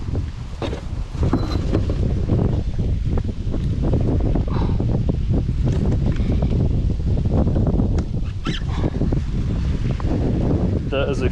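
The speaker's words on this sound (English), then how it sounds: "It's getting a little windy." Wind buffets a microphone outdoors on the water during late spring bass fishing, a loud continuous roaring rumble with gusty rustle throughout.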